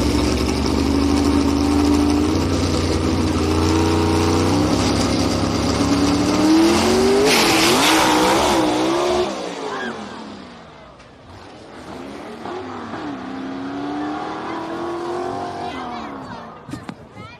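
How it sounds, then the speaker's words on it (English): A drag racing gasser makes a solo bye run at a dragstrip. The loud engine revs hard and climbs through its gears for about nine seconds. It then drops to a quieter, more distant drone, and voices are faint beneath it. "Gabriel Burrow on his by run."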